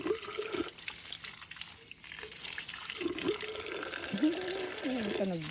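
Hose water spraying over garden plants, a steady hiss with splashing and dripping as the stream shifts, sounding close throughout.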